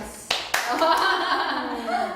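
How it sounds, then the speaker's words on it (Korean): A studio audience claps for an idol group member's introduction on a variety show, with a couple of sharp claps followed by a burst of clapping mixed with voices and cheering. "박수!"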